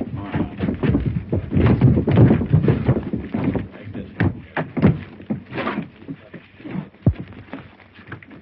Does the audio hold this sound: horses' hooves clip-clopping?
yes